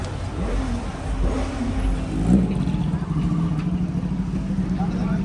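A superbike at a grand showroom inauguration with BMW S1000RR, ZX-10R and Ducati machines, its engine running loud and steady with low rumble and a brief surge, amid crowd chatter and voices.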